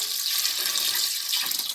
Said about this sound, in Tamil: அடுத்து தண்ணி ஆட் பண்ணிக்கிறோம்.